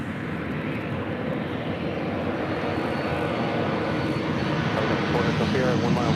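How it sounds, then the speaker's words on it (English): A Boeing 757-300 on final approach into LAX gives a steady, broad engine roar that holds loud and even throughout, building slightly toward the end, with voices talking over it. "757-300 coming in from SFL Flight 2557, now just about a minute out"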